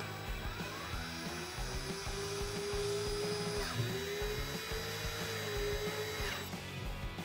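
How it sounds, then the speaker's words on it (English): Power drill driving screws through Kevlar into an aluminum pole, a continuous whining motor drone with a slightly wavering pitch, close and steady, with a short dip midway before resuming. "Take a drill and drill them in."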